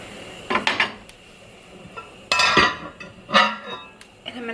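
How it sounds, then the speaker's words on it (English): A spoon scrapes and clinks against a pot of escarole and bean soup as it is stirred on low heat, coming in several short bursts of metallic scraping with quiet gaps between. "Give it another stir."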